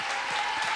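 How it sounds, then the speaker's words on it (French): Studio audience applause on a 1994 French television game show, a steady dense wash of clapping that fills the short moment without any talk over it. "Et à mon avis, ça s'applaudit très très fort."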